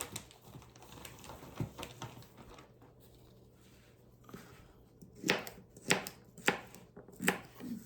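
A knife chops a rib of celery on a board in a home kitchen, quiet taps at first, then a run of sharper, louder cuts in a steady rhythm near the end.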